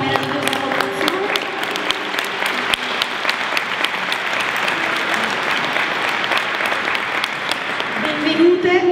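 A packed cathedral audience applauds a performing ensemble at a concert, with dense, steady clapping echoing through the large space and a voice rising near the end.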